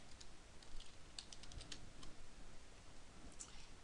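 Keys clatter on a computer keyboard in quick, uneven bursts of close, fairly quiet taps, with short pauses between runs and no voices.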